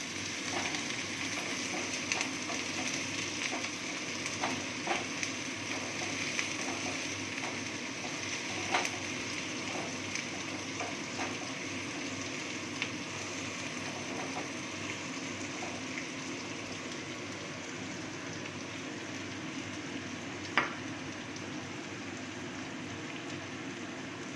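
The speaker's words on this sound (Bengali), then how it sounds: "পেঁয়াজটা দিয়ে একটু নাড়াচাড়া করবো।" Onion frying and being stirred in a pan, a steady quiet sizzle lasting throughout, with occasional faint scraping and clinks of the spatula.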